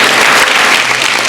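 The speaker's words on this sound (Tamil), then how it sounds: "இந்த கைத்தட்டு தாங்காதுன்னு நினைக்கிறேன்" An audience in a school hall applauds the chief guest at a Sivakasi matriculation school event, a loud dense burst of clapping filling the whole moment without pause.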